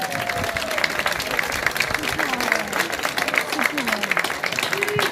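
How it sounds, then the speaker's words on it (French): Crowd clapping fills a singing competition hall in Surgères after the young performers are named, steady applause with a voice speaking over it and faint whistling pitches drifting through. "On les applaudit bien fort."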